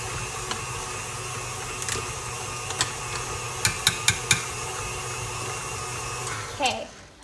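An electric mixer beats eggless chocolate chip cookie dough with a steady whirring motor hum, broken by a few sharp clicks and knocks, then a brief scrape as it winds down.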